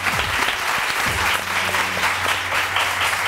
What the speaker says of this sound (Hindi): किसी बात को भी तालियां पीटने लगते हो